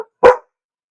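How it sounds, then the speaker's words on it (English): A single loud, close dog bark, short and sharp, in an otherwise quiet room. "I don't know why they're barking."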